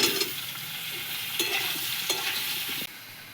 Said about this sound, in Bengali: আলুগুলো একটু নেড়ে নেব